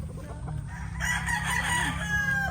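A gamefowl rooster of a sweater gray, yellow-legged hatch cross crows close by, one strong drawn-out call rising after a brief cluck, over a low steady background.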